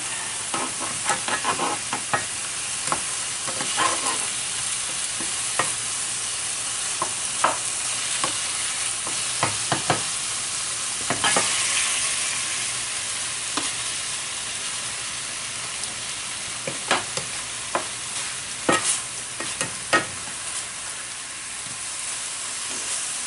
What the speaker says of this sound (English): See how it's getting nice and brown here? Sure it's all seared good.